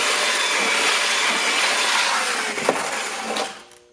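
A power mixer churns concrete countertop mix dosed with superplasticizer, a steady loud whirring grind that continues for a few seconds, then winds down and stops.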